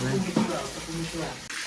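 Two jugs of water are poured out, giving a short, continuous splashing rush while a voice talks over it.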